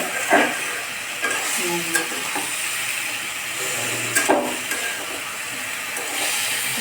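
River fish fries in a pan with a loud, continuous sizzle and hiss, with occasional scraping stirs and bursts of steam, heard up close with no talking.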